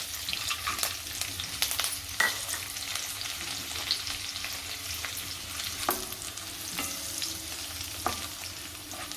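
Green chillies and dry fruits sizzle and fry steadily in a pan of oil with cumin and curry leaves, with scattered stirring clicks and spatters throughout, loud and close.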